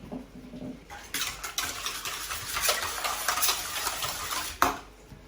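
Milk is poured in and stirred into sugar for pain perdu, giving steady clinking and scraping of a utensil against a bowl with small splashy bursts, close and fairly quiet.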